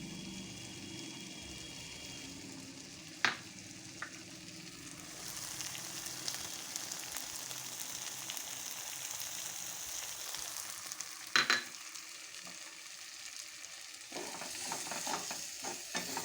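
Poppy seed paste is stirred into a salted boiled dish in a pan, making a soft, low sizzle with a few distinct scraping clacks and a louder burst of stirring partway through, all quiet and close with no speech.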